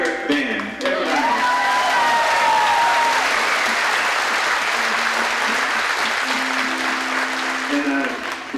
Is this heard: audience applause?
yes